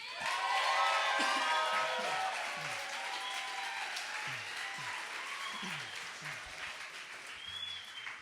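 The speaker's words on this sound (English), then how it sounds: "let's give him a round of applause" Concert audience at a benefit worship show bursts into sustained applause with cheers and whoops, loud and dense at first, then gradually thinning out over several seconds.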